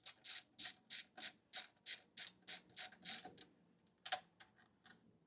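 A ratchet turns out a 10 mm bolt with about a dozen quick, evenly spaced clicking bursts, close and crisp, then a short pause and a couple more clicks, with no talking.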